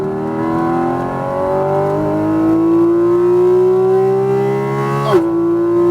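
A Porsche 718 Cayman GT4 RS engine pulls hard on a Las Vegas track, its loud, buzzing harmonic whine climbing steadily in pitch before a brief break and resettling near the end.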